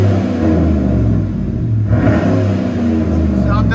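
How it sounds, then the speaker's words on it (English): A 2016 Chevy Silverado 5.3L V8 with Flowmaster Outlaw dual exhaust revs with a deep, throaty rumble, close and loud, holding steady with a brief dip and swell, while a voice talks faintly over it. "On the Flowmaster Outlaws, they give it that really deep throaty sound with not a lot of raspiness."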